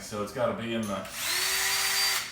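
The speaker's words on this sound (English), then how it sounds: "as fast as this drill goes, which I think I've got it on the highest setting" An electric drill runs at its top speed setting while applying thread compound, a steady high whine holding for over a second after someone speaks briefly.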